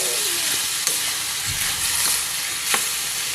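Leftover roasted pig meat with its skin being stirred in a hot pan for lechon paksiw, a steady close sizzle broken by a few sharp scrapes of the spoon against the pan.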